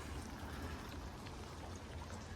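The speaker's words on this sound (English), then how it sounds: "it's been raining quite a bit today, so gardens are getting lots of moisture" Rain falls on a garden at night, a faint, steady, broadband patter and hiss with no distinct drops standing out and no one speaking.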